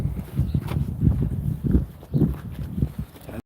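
Donkeys being let out walk with soft irregular hoof clops on the ground, several muffled close steps in an uneven rhythm, with no talk.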